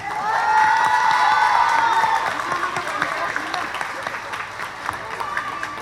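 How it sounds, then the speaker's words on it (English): An audience at a school production event gives a warm round of applause to welcome a teacher to speak, steady clapping with a few cheers and whoops that slowly tapers off. "please help me welcome with a round of applause, Teacher Aimee Cruz"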